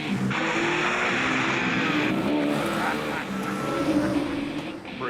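A convertible car drives along, its engine and road noise a steady, close wash throughout, with voices talking over it.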